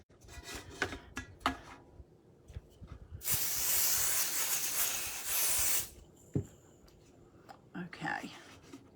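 An aerosol spray can hisses in one long, loud burst of about three seconds onto a stencil on a drop cloth, with talk and light handling noises before and after.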